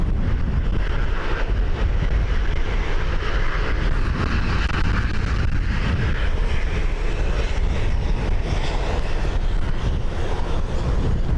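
An Airbus A321neo airliner lands at Dublin Airport on a windy day, giving a loud, continuous, broadband engine roar with wind rumble that holds steady throughout, close and unbroken.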